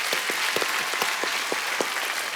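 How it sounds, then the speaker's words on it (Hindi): Studio audience applauding on a Hindi comedy talk show, dense steady clapping from a crowd with no voices. "तालियां बनती हैं भाई आपके लिए।"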